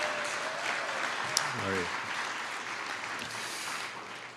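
Applause and cheering for Yuri Fulmer at a First Nations art award presentation ceremony, a steady dense crowd noise throughout with a brief spoken line from a man partway through.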